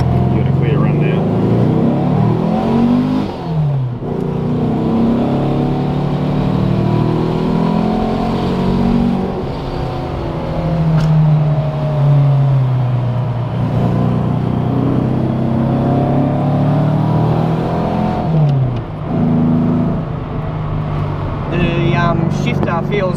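A car engine hums steadily from inside the cabin, its pitch rising and falling as the vehicle accelerates and shifts gears through a continuous drive.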